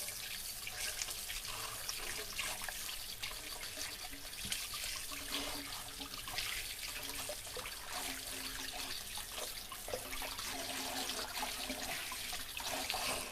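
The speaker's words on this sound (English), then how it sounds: "I'm just going to move this out the way and wash my hands" Tap water running steadily into a sink while hands are washed, a continuous close splashing hiss with no talk, in a home kitchen after shaping lamb kofta.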